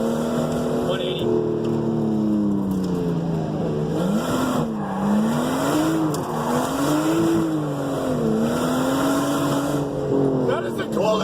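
A car drifting on a mountain touge road, its engine droning and wavering steadily through the clip, close and loud. Tire squeal is not clearly distinct, and a voice may be faintly present.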